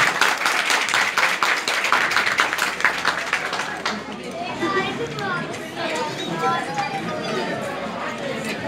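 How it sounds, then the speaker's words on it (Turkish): Audience clapping at an iftar gathering, a burst of dense applause that thins into scattered claps while children and adults chatter in the background. "Kuvvetli bir şekilde alkışlayalım kendisi."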